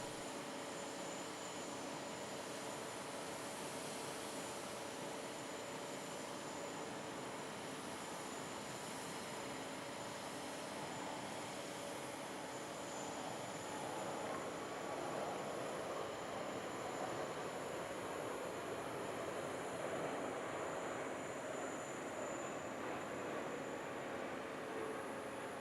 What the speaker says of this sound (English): Emirates lead with an A380-800, A350-900 and 777-300.